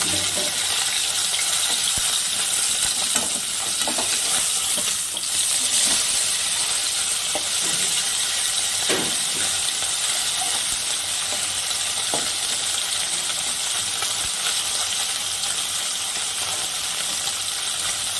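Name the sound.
small river fish frying in mustard oil after being flipped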